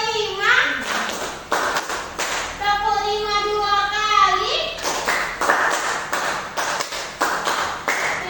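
Children in a classroom clapping game chant together, then strike a run of rhythmic, sharp hand claps in quick succession, loud and close, between spoken counts.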